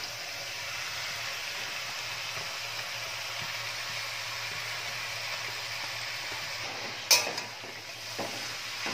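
Ash gourd being stir-fried in a pan with ginger and green chilli, a steady soft sizzle running throughout with a brief sharp clatter of a utensil against the pan near the end.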